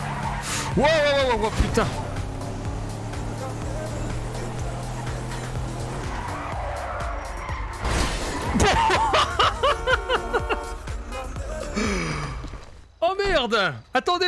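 A car in GTA V skids with squealing tires and crashes, amid bursts of revving, impacts and clattering, while a player exclaims and talks excitedly throughout.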